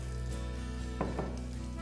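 Steady sizzling of coriander in hot oil for tempering, with a couple of brief soft stirring sounds partway through.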